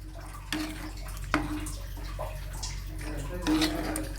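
Water poured into a pot of chunky fish curry, a steady pouring wash with a few brief splashy bursts, close by and fairly loud throughout.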